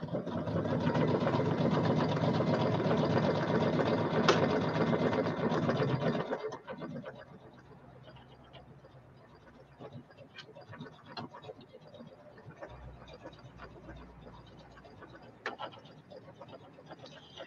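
A sewing machine runs steadily, stitching decorative stitches onto an embroidered mug rug, loud and continuous for about six seconds before stopping, followed by faint handling clicks and small taps.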